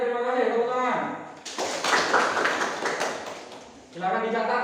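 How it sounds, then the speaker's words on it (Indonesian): Classroom students clap together in a brief burst of applause, a dense patter of many hands that rises sharply and fades after a few seconds, framed by a teacher's voice before and after. "Tepuk tangan."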